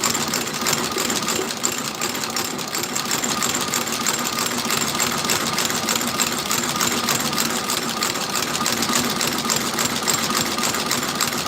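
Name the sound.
sewing machine stitching new soles on boots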